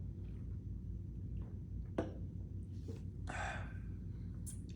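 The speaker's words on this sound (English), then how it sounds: "I'm sorry about my yawn." A single drawn-out early-morning yawn with breathy, gasping air, alone over a steady low room hum, with no talking.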